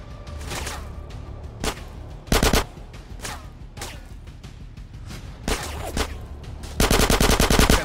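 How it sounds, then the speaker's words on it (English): Rapid submachine gun bursts in the video game GTA San Andreas, several loud repeated volleys of automatic fire separated by short gaps, with a sustained final burst; no talking. "Michael, let's use the submachine gun."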